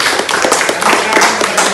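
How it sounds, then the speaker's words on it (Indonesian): An audience at a talk on Pancasila claps together, a dense patter of hands loud and close throughout. "Pancasila. Tepuk tangan."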